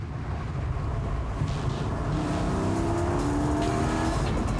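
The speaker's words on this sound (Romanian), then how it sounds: "La sunetul motorului Boxster aspirat în 6 cilindri se adaugă sunetul unei evacuări sport" A Porsche 718 Spyder's naturally aspirated six-cylinder boxer engine with sport exhaust, driven on roads in Scotland, drones steadily and climbs in pitch as it revs, heard from inside the moving car.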